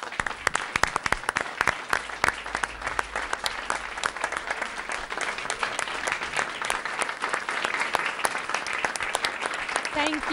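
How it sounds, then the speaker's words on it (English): An audience at a school district board meeting in Brownsville breaks into steady, sustained clapping that fills the room for about ten seconds. "Mr. Reyes, if we could give him a round of applause, please."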